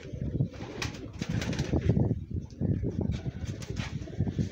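Pigeons coo repeatedly in low, throaty bursts from close by, a steady layered murmur from several birds at a pigeon-keeping loft, with no talk over them.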